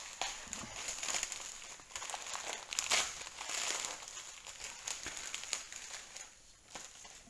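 Unboxing a Redmi Note 9 smartphone, with plastic packaging crinkling and rustling continuously, close and soft, with a few sharper crackles and no talk.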